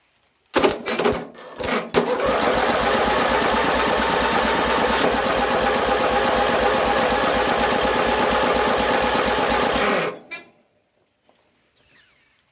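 A lawn tractor engine is started with the choke and a little throttle: a few sharp clicks, then about eight seconds of steady, close mechanical churning that cuts off, followed by near silence.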